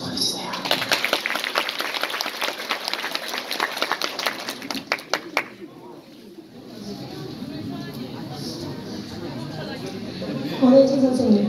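Guests at a wedding celebration clap in a burst of lively applause for several seconds, which then fades as a voice begins speaking.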